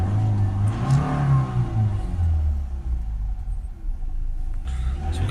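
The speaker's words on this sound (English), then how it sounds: "So we're going to give it a few revs up and down" A Ford Transit Custom 2.2 diesel engine revs up and down, a close low rumble swelling and falling a couple of times before easing back toward idle.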